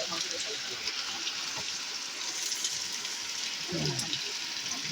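Onion, bay leaf and tomato dropped into a pan for Bengali mutton kosha, giving a steady broadband frying sizzle throughout with a brief clatter near the end, while a voice talks over it.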